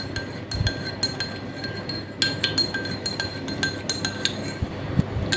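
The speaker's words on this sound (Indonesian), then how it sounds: "Dan ini mau kita aduk sampai tercampur rata." A spoon stirs sweetened condensed milk inside a glass, giving a steady run of bright clinks and scrapes against the sides, close and fairly loud with no voices.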